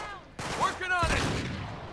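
Gunshots ring out in the Uncharted 3 video game inside a castle museum, a couple of sharp reports amid game sounds and music, with someone talking over the action.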